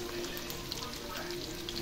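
Soy sauce goes into a hot pan of pancit bihon rice noodles, which sizzle steadily. The hiss is dense, even and continuous at a moderate distance through a brief moment.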